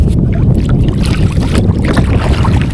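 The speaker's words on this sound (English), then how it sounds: "Oh, and here comes the wind." Wind gusts over Smith Lake in South Sheridan, Nebraska, producing a steady, loud, close buffeting rumble against the microphone with no pauses and no voices.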